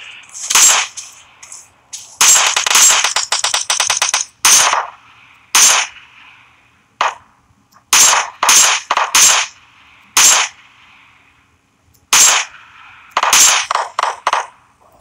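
Gunfire in a video game shooter, loud, close bursts of sharp shots in irregular clusters, some rapid volleys and some single cracks, with brief quiet gaps between them.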